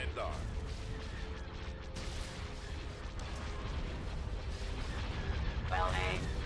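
Cannon fire in a Star Wars space strategy game, a busy stream of booming shots and mechanical clatter layered over a steady battle din, with a short voice line and a brighter burst near the end.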